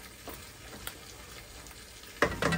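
Tomato paste sautés for butter chicken, a quiet low sizzle with faint spoon scrapes that turn into louder, busier stirring strokes near the end.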